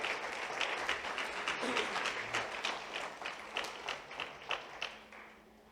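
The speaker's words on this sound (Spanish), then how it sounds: "Eso, dele el aplauso al Rey." A church congregation breaks into warm, dense applause that gradually thins toward the end into scattered, distinct claps, moderately quiet with no voices on top.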